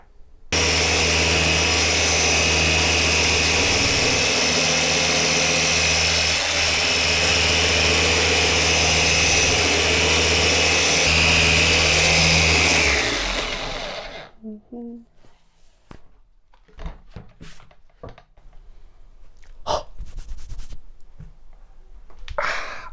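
A Bosch GEX 150 Turbo random orbital sander strips paint and varnish from wood, running loud and steady with a constant whirring hum for about thirteen seconds before cutting off, leaving faint scattered knocks and handling sounds.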